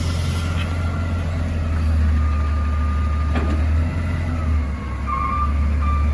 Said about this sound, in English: That's why you hear all that beeping, just to be cautious and careful, and know that the garbage truck is backing up and then turning.